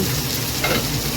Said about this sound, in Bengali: সবজিগুলো সব ভাজা হচ্ছে